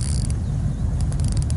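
Ratchet-like clicking from a fishing reel's drag as line pulls out while a bream is played on a bolognese float rod in strong current, quick bursts of clicks over steady low rumble of flowing water.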